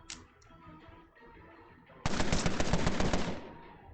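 Loud, dense automatic machine gun fire from the crime strategy video game Empire of Sin, a sustained burst of about a second and a half that follows a quieter stretch of faint background game sounds.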